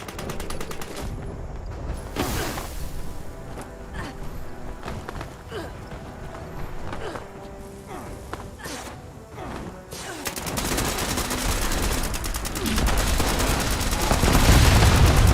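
Gunfire and explosions from the Fallout 76 video game rattle in rapid bursts and scattered booms, thickening into a loud, sustained barrage toward the end.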